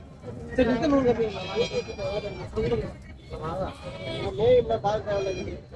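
At a crowded goat market in Kunnathur, young Jamunapari goat kids bleat nearby in repeated short wavering cries, mixed in with constant talk from traders and buyers.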